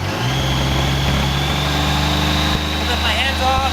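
A Honda Goldwing motorcycle cruising down the road at highway speed, its engine droning steadily and loud close by, with wind and road noise, alone without speech.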